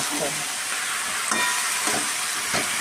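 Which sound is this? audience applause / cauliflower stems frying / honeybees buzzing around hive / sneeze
cauliflower stems frying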